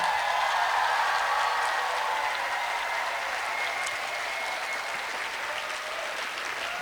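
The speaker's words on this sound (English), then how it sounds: "And please, a round of applause for all the poets that you heard in the first round." An audience at a poetry slam applauds the poets with dense, steady clapping that stays loud and even for several seconds, tapering only slightly toward the end.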